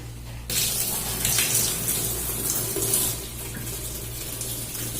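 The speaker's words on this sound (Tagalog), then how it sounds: "Lagyan na natin ng tubig." Water gushing from a hose into a washing machine in a bathroom: a steady, close splashing rush beginning after a short pause, with a low machine hum underneath and no talk.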